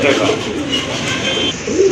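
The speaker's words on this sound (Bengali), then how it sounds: "আরেক জোড়া লক্ষা কবুতর" Fantail (lakka) pigeons coo softly in low, rolling calls amid chatter at a pigeon sale, with voices talking over the birds nearby.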